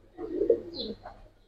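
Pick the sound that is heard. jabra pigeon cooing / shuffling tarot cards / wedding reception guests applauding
jabra pigeon cooing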